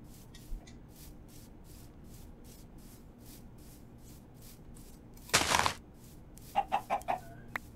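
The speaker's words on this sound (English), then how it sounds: "And we did spawn a chicken." Minecraft chickens cluck in a short series of soft, clipped calls near the end, following a brief scraping rush; the rest is a quiet background with no talking.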